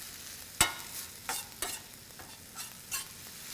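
Shredded bok choy and vegetables stir-fried in a hot pan, with a steady sizzle broken by several sharp scraping stirs, close and fairly loud, no voices.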